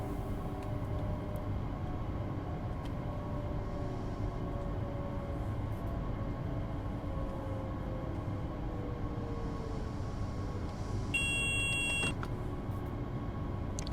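A steady PZB 500 Hz train-protection tone sounds in a Train Sim World 6 cab on the Leipzig–Dresden line, a continuous beep over constant low rail and motor rumble, with a brief brighter chime near the end.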